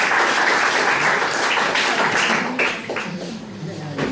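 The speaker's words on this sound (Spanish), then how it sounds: "pido un aplauso para ella por esa época" Loud, dense applause from an audience at a presentation in Alicante, a full steady roar of clapping that eases slightly toward the end, with a few voices underneath.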